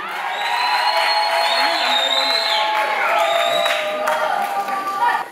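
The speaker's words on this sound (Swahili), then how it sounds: "So upige makofi mengi." A church audience at a Christmas service applauds and cheers loudly and steadily, with whoops and a voice rising over the crowd noise.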